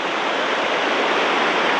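The Nandakini river after a cloudburst rushes in a steady, dense roar of turbulent water, loud and close with no pauses or voices.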